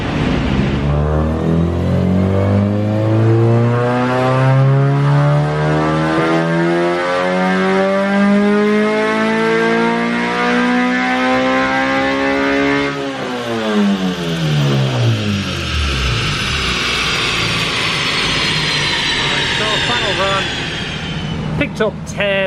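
A tuned Honda Civic Si engine revs on a dyno, rising steadily in pitch for about thirteen seconds before dropping sharply back down. It is loud and close, with a whirring drivetrain underneath and brief rising revs at the end.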